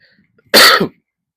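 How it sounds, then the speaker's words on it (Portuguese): A single short, rough throat clearing caused by rhinitis, close and fairly loud, with quiet surroundings before and after. "Pigarrozinho, né? De rinite chato."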